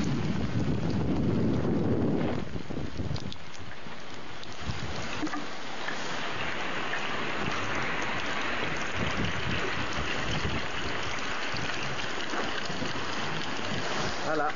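Wind gusting hard across a sailing boat at sea during a rain squall, a steady loud rush of air and spray with a heavier low-pitched buffeting in the first couple of seconds, then a constant broad hiss.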